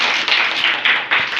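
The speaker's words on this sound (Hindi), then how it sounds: "तालियां हो जाए।" Children clap at an Eid cash giving event in Lahore, Pakistan. There are about four quick bursts of claps close by, with no one talking.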